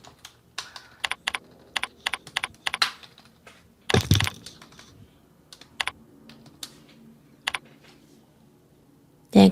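Keys clatter on a computer keyboard as a project name is typed into a programming setup dialog, coming in quick irregular bursts of clicks with short pauses and one louder cluster of strokes midway.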